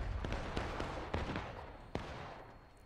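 Airsoft guns firing during an outdoor team battle game in Hagerstown, heard as scattered sharp pops and a few louder cracks over a steady noisy background, some shots nearer than others.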